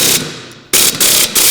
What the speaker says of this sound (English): put the bolt, a new bolt in, and you hammer down on it and it pulls the stud back up into its slot